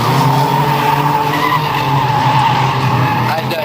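A banger racing car skids and spins a full 360 on a 2008 Bovingdon oval, tyres scrubbing loudly over a revving engine, with a commentator talking over the noise.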